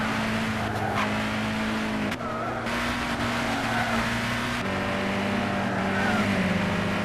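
A Nissan Zytek LMP2 race car at Le Mans in Gran Turismo 6 roars continuously at high revs, its loud, steady engine drone shifting pitch slightly through gear changes for several seconds without talk.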